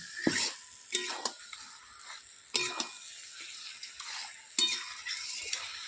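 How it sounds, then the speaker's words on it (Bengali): Mutton being sautéed with onions in a pan, stirred in repeated scraping strokes with a spoon, each stroke a sharp scrape followed by soft sizzling, close and fairly quiet. "এই পেঁয়াজের সাথে বেশ কিছুক্ষণ আমি খাসির মাংসটা এরম করে কষবো"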